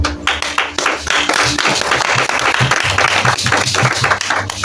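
Congregation in a church service applauding, dense steady clapping from many hands filling the space, close and loud throughout with no speech over it.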